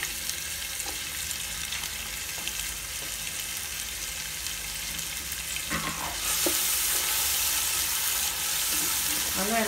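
Chopped onions frying in hot oil for mutton biryani, a steady sizzle with occasional stirring scrapes that grows louder and brighter partway through.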